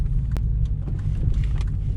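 An Infiniti Q45 with a swapped M45 transmission control unit gives a steady low engine rumble from inside the car, with one brief sharp click near the start and no talking.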